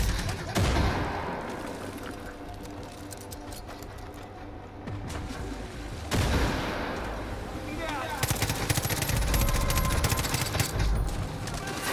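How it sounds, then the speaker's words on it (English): Minigun fire in Far Cry 5, long dense bursts of rapid gunfire with heavy booming and crackling, loud and nearly continuous, a brief lull around the middle before firing resumes even harder. "I gotta get on this fucking minigun and rail his ass."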